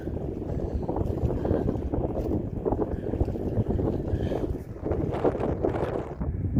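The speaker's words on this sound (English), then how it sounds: "It's nice and windy out." Strong seaside wind along Dallas Road in Victoria, Canada buffeting the microphone in a continuous low roar, gusting unevenly throughout.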